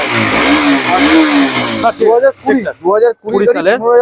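A used motorcycle with about fifteen thousand kilometres on it is revved at a bike showroom near Kolkata. A loud, wavering engine roar rises and falls, then gives way to someone talking close by.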